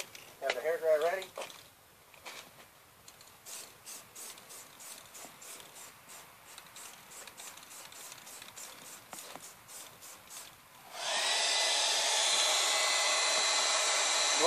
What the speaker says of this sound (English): Have the hairdryer ready.